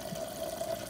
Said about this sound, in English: See how the water goes straight into the cup.